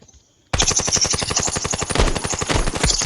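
Rapid automatic gunfire from a gun in the mobile shooter game Standoff 2 starts abruptly after a short quiet moment and continues as a loud, dense, evenly spaced burst of shots with no pause.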